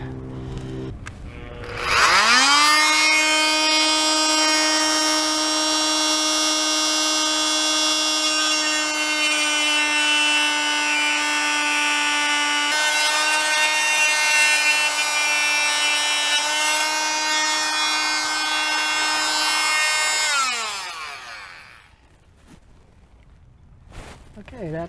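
An oscillating multi-tool cuts into teak wood with a loud, steady high-pitched buzz that holds for about eighteen seconds, then winds down and stops.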